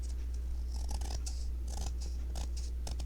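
Scissors snip off excess material while a cross stitch piece is being framed, giving a quick series of soft, close, quiet cuts with short gaps between them.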